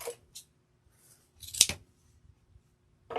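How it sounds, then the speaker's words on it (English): Scissors snip through ribbon for a leopard gnome wreath, one sharp crisp cut near the middle with a few faint rustles before and after, close and quiet otherwise. "so we're going to go ahead and cut that off"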